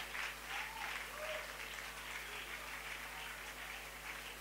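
A church congregation applauding during a French-language service: faint, even, continuous clapping from a crowd, heard from a distance over a low electrical hum.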